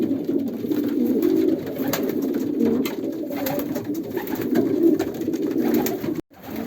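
Many pigeons coo together inside a loft during pairing season, a continuous, close chorus of low, throaty rolling calls with no talking, and a short drop-out near the end.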